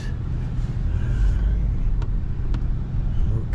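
A car at an auto auction pulls away in first gear with a steady, close, low engine rumble that holds evenly throughout, broken by a couple of faint clicks.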